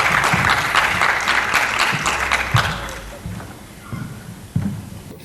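Conference audience applauding a speaker at a talk on alcohol-free and partially dealcoholised wines, a dense burst of clapping that thins out over about five seconds, with a few low voices and shuffles near the end.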